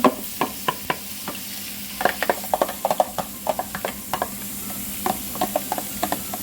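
Onion and garlic sautéing together in a pan for spicy beef caldereta, with repeated sharp scraping clicks of a spoon stirring against the pan over a steady low sizzle.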